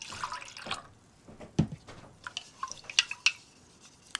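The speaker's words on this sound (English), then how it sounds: "Pour water in here." Water poured into a baking pan to dye paper with acrylic paint, giving soft irregular splashes and drips, one sharper splash midway and a few bright drips near the end, fairly quiet and close.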